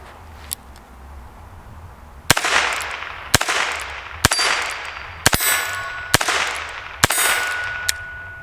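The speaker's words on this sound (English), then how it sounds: "today we're shooting the Heritage Rough Rider" Six loud, evenly spaced suppressed shots from a Heritage Rough Rider Tactical Cowboy revolver, each a sharp crack with a short ringing metallic tail, after a quiet lead-in with a faint click.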